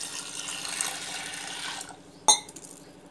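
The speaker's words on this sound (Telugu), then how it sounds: "ఉక్కరగిన్నె తీసుకొని పప్పు వేసి శుభ్రంగా రెండు మూడు సార్లు కడుక్కొని" Lentils are rinsed with water in a metal vessel, a steady sloshing, swishing wash that stops abruptly, followed by a single sharp clink of the vessel and quieter dripping.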